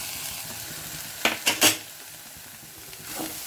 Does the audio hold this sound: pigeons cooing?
no